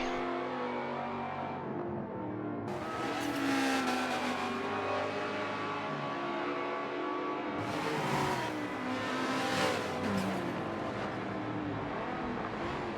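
Race cars in a racing video game, including a supercharged V8, a Ferrari, a GTX and a Lotus, roar loudly and continuously with engine revving that swells sharply twice as cars push hard along a bridge straight.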